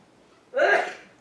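A single short, sharp sneeze-like burst breaks out after a quiet moment, then fades quickly.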